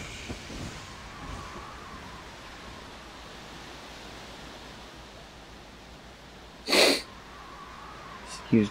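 Dark Cloud 2 character sneezes once sharply near the end, a loud burst after a long stretch of quiet ambient noise, followed by a short sniffle.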